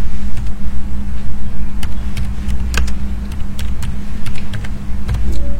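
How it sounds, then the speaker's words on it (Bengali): Someone types an answer on a computer keyboard, and the key clicks come in irregular, fairly close taps over a loud steady hum. "যেমন আমি এখানে লিখছি"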